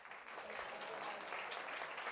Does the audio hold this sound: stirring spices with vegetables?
no